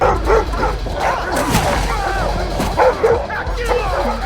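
Sled dogs bark, yip and whimper in rapid, overlapping bursts during an attack scene in a film, loud and close, mixed with other action sounds.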